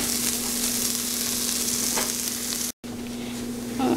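Potato and pea filling with black pepper and spices frying in a pan, a continuous close sizzle with stirring, briefly cut off near the end before resuming.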